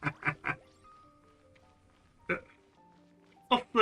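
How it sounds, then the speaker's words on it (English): A bird in Genshin Impact gives quacking, duck-like calls: three quick calls in a row, then two single calls spaced a second or more apart, over quiet tonal game music. "It sounds like a bird."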